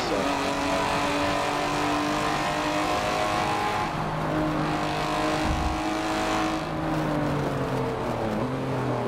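Race car engines in the Forza racing video game, a constant loud droning whine with shifting pitch as engines rev and change gear, with a voice talking over it.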